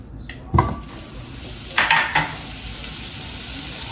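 Butter drops into a hot pan for gravy and sizzles, with a pan clank at the start and a few utensil knocks, then a steady frying hiss that continues alone.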